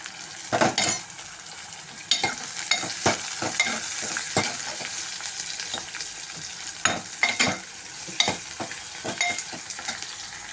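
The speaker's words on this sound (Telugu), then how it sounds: "ఆనియన్స్ కూడా వేసుకున్నామండి. బాగా వేగిద్దాం ఫ్రెండ్స్." Onions frying in a pan of hot oil for a tempering, a steady close sizzle broken by scraping stirs and clinks of a utensil against the pan, with no talk.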